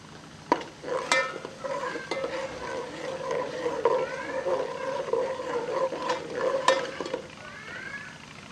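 A steady sizzle of whole spices frying in a pan, with a spoon scraping and clinking against the metal now and then, up close.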